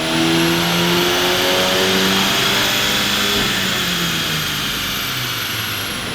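A car with an aftermarket intake and turbo inlet runs hard on a dyno, its engine roaring loud and close with rising harmonic whine for several seconds before easing slightly toward the end.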